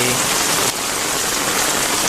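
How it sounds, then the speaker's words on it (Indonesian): Steady rain pours down at a cemetery, a dense, even hiss that fills the whole short stretch with no pauses. "Mohon maaf guys ya, hujan."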